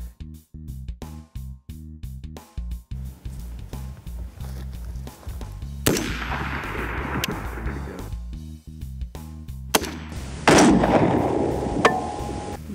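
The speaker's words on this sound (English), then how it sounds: "but we sighted in a few rifles." Rifles are fired while being sighted in at a range. A few sharp reports ring out, with two prominent shots standing out against quieter clatter and movement between them, and no talk.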